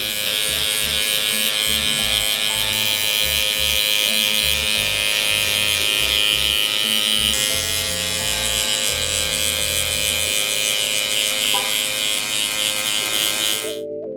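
A new Gamma Cyborg hair clipper buzzes steadily and close up for about fourteen seconds while blending lines in a barber cut, its motor hum unbroken until it cuts off at the end.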